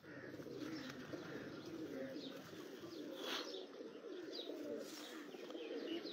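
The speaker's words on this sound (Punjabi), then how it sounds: "ਇਹ ਜੀ ਕਬੂਤਰ ਹੈ" Many pigeons coo continuously on a Mianwali rooftop, a dense, steady murmur of overlapping low calls close by, with faint chirps above and no talk.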